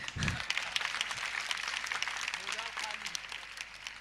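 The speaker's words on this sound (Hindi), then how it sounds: "बजाओ ताली।" Listeners at a religious sermon clap along in a busy, continuous patter while a voice talks over part of it, the clapping staying fairly close and steady.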